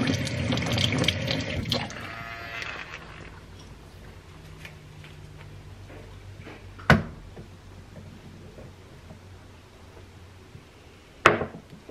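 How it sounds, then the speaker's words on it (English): A kitchen tap runs over a coffee mug being rinsed after making protein coffee, a loud burst of water at the start that quickly thins to a faint trickle, with two sharp knocks of the mug or a cupboard later on. "I'm rinsing this off."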